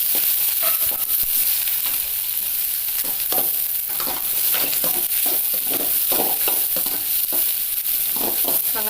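Onions sizzle and fry in hot oil with mustard seeds, dried red chillies and curry leaves, a dense steady crackle broken by frequent stirring scrapes in the pan.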